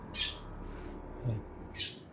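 A bird calls from up above among trees, with two short, high chirps about a second and a half apart over quiet outdoor background noise.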